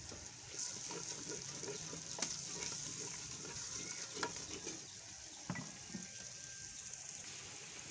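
Onions, tomatoes and green chillies sizzle steadily in a pan for mung dal, a broad frying hiss with occasional stirring clinks and scrapes, close and moderately loud with no talking.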